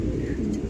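Lark pigeons on a pigeon farm give a brief, low cooing sound, close and moderately loud, in a very short burst with no talking.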